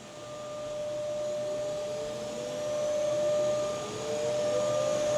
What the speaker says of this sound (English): is starting the spindles on the machine